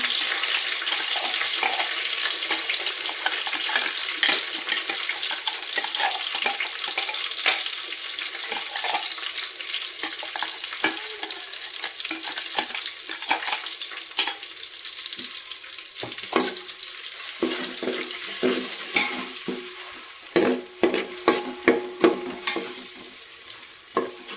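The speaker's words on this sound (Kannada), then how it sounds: "ಇದು ಎಣ್ಣೆಯಲ್ಲಿ ಬೇಯಿಸಿ ಚೆನ್ನಾಗಿ ಹಸಿ ವಾಸನೆ ಹೋಗೋವರೆಗೂ ನೆನೆಸ್ಕೋಬೇಕು" A mixer-ground paste fries in hot oil, giving a steady sizzle for the whole stretch, while a spoon stirs and scrapes the pan in irregular clicks that grow sharper and more frequent toward the end.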